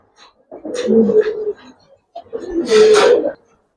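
Old-breed Giribaz pigeons coo up close in two drawn-out throaty bursts separated by a short pause.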